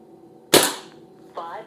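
An SMK Victory CP2 .177 CO2 air pistol fires a single sharp, loud crack at close range, with a short decaying tail, followed by a brief faint metallic sound.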